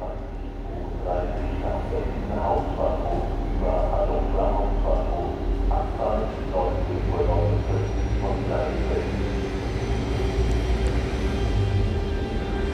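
An Intercity train to Dresden pulls out of Braunschweig main station at night, a steady low rumble and rhythmic clatter of wheels running under the station hall ambience throughout, with voices talking over it.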